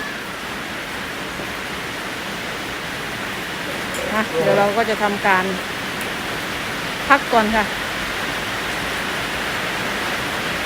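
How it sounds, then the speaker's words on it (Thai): Heavy rain pours down in a steady, hissing downpour that stays even throughout. Someone talks briefly over the rain in the middle. "ฝนน่าจะเริ่มเริ่มตกหนักขึ้นเรื่อยๆนะคะ"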